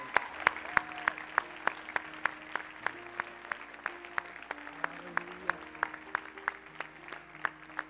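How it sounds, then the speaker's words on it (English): A revival-night church congregation claps in praise, with a steady rhythm of sharp, evenly spaced hand claps carrying over softer scattered clapping and a sustained organ tone, moderately distant and without talk. "Somebody give God a hand clap of praise tonight."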